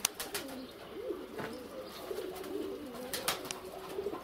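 Rural pigeons, many of them males, cooing in continuous low warbling phrases close by, punctuated by brief clicks and rustles, with no talking.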